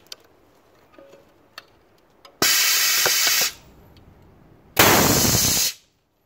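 A used Bisal BS 11800 aluminum press punches holes in aluminum hardware rods, giving two loud, sustained bursts of hissing air, each about a second long, after some faint clicks and taps.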